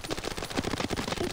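Rapid automatic gunfire from a shooting video game, a dense continuous burst of repeated shots at steady loudness, with no talk over it.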